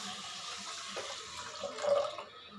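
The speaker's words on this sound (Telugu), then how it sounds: "ఇప్పుడు వాటర్ పోసుకుందాము" Water poured over two measures of washed rice in a bowl, a steady broadband pour with a brief louder splash near the end, alone without talk.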